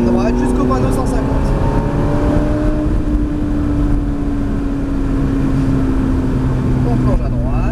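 A Ferrari F430 F1 accelerates hard onto the straight at the Mérignac circuit, its engine note climbing steadily through the revs. The sound is loud, close and continuous, and a voice speaks over it.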